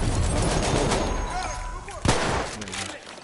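Dense, continuous gunfire in a multiplayer military video game, booming shots and bursts layered over one another, with one sharp loud report near the end and a steady roar throughout.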